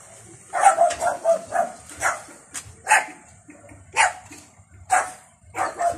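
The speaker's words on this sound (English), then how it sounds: "They even brought their dogs." Dogs at a solar light installation site bark repeatedly, about ten sharp barks in an irregular rhythm, fairly close and clear over quiet background rumble.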